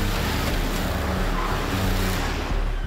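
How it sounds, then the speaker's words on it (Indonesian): Luxury sedans in a staged movie car chase, a dense roar of engines and road noise that surges and holds loud and close for several seconds, without speech. "Misalnya seperti kejar-kejaran mobil"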